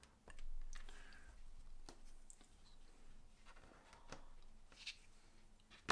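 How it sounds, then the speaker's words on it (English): Close, quiet scraping and tapping of a craft knife cutting straight along card or foam board for a Disney dollhouse staircase, a steady faint scratch with a few sharper clicks. "Just going to cut straight along"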